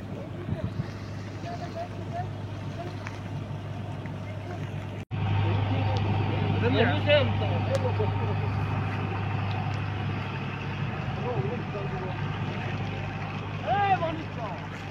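A boat moving on the water, its steady low motor drone running under the whole stretch and growing louder after a sudden jump partway through, with people talking over it.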